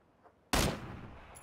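A single sharp, loud burst of gunfire in PUBG (PlayerUnknown's Battlegrounds), close by, hitting suddenly after near-silence and ringing briefly.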